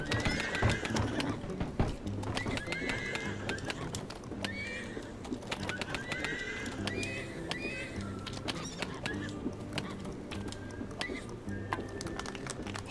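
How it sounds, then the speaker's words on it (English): In Animal Crossing: New Horizons, horses whinny repeatedly over steady clip-clop of hooves, with a busy clatter of other noises in the background. "horse on a train."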